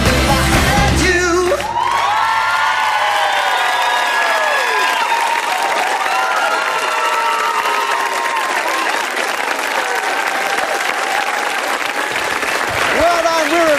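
A studio audience at a televised ballroom dance competition bursts into loud, sustained applause with cheers, whoops and shouts after a cha-cha routine, the clapping dense and steady, with a host's voice speaking over the crowd.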